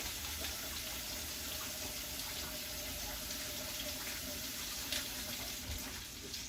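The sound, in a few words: filling a saucepan with tap water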